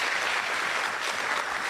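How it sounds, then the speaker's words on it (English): Audience at the Women's Economic Forum Kenya 2024 applauding Professor Wanjiku Kabera, a dense, even wash of clapping from a large crowd, sustained and loud throughout the brief moment. "somebody who really needs a round of applause, please let us appreciate Professor Wanjiku Kabera"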